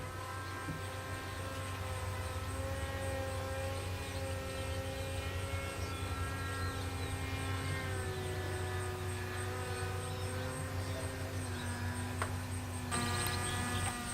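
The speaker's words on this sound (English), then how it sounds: "our plane has finished its scan pattern, and now it's circling over its home" A steady, droning propeller hum from a small UAV plane circling overhead holds at an even level throughout, with a constant low background buzz.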